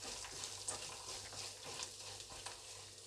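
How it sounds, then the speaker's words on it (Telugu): Tempering spices, peanuts, green and dry red chillies and curry leaves fry in hot oil for lemon rice, giving a soft, steady sizzle with faint crackles and the occasional stir, close but quiet. "అన్ని పోపు గింజలు, పల్లీలు, పచ్చిమిర్చి, ఎండుమిర్చి, కరివేపాకు అన్నీ వేసుకున్న తర్వాత లైట్గా వేయించుకొని బాగా వేగనివ్వాలి"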